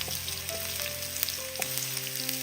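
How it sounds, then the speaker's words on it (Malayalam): Three thinly sliced shallots fry in a pan as they are stirred, a close steady sizzle with soft scraping taps and no voices. "3 ചെറിയ ഉള്ളി കനം കുറഞ്ഞരിഞ്ഞതും കൂടി ഇട്ട് കൊടുക്കുക. ഇതൊന്ന് ഇളക്കി കൊടുക്കാം."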